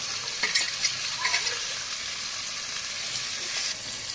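Tomatoes sizzle steadily in a hot pan while a utensil scrapes and stirs, with a few clattering touches early on and no talking.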